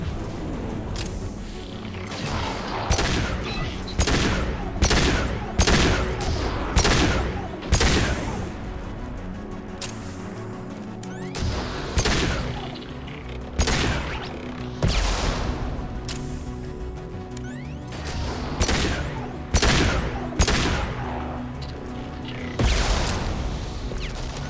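Weapons firing in Mass Effect 2, a loud, steady series of heavy gunshots and booming impacts repeating at a regular pace across the whole stretch, with battle noise filling the gaps.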